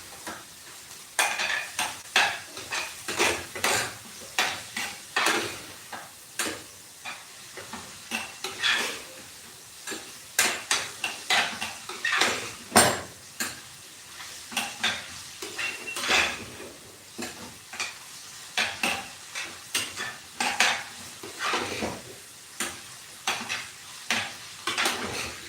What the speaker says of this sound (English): Let me give it a good mix.